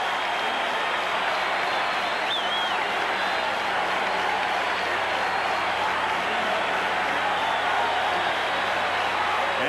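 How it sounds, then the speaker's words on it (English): A steady, broad crowd roar fills a baseball stadium at the 1985 World Series in Kansas City, the Royals hosting the St. Louis Cardinals, with fans cheering and clapping for the defense throughout, a single whistle rising briefly above it. "Crowd has been reduced to cheering for the defense, trying to get things started."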